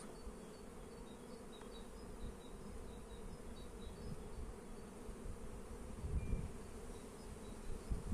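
A dense, steady drone of many honeybees buzzing close by in a hive during a spring inspection, a continuous low hum with occasional louder passes.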